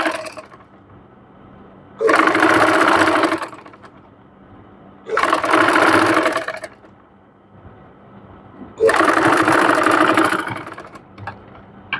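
A sewing machine runs in three distinct bursts, double-stitching thin elastic onto a sleeve cuff, each burst a loud, close whirring clatter of a second or two separated by quiet pauses.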